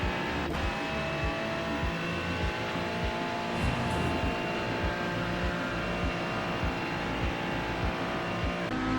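A Corvette race car engine in a racing video game, a steady loud drone with a constant pitch and a slight rise near the middle, holding for the full stretch with no voices.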